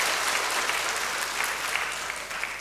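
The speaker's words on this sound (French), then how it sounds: "je voudrais que vous l'honoriez à travers vos applaudissements" A hall audience gives sustained, even applause, a dense wash of many hands clapping at moderate distance with no voices standing out.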